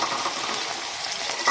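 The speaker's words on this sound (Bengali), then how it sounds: "নামিয়ে নিয়ে ওই তেলের মধ্যে আমি দিয়ে দিচ্ছি কুচনো পেঁয়াজ" Chopped onions fry in hot oil, a dense, bright, close hiss of sizzling that holds steady throughout with a slight stir near the end.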